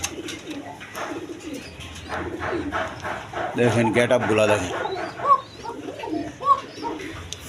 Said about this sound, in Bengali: ওরার রাজা ধামাসি কবুতর।